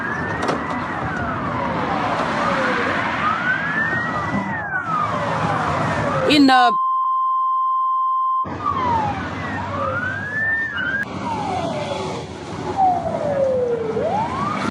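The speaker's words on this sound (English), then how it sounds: "more than 15 fire trucks and ambulances arrived at the scene." Several wailing fire truck and ambulance sirens sweep up and down at the scene of a strike near the Ukrainian border, loud and overlapping with traffic noise, broken by a short steady tone midway before the sirens resume.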